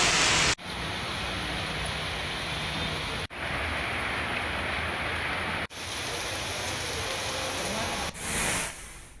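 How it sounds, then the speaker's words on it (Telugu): Heavy rain pours down across Hyderabad in a dense, steady hiss. The downpour is broken by a few abrupt cuts and then resumes at the same strength. "హైదరాబాద్ లో పలు చోట్ల భారీ వర్షం కురుస్తుంది."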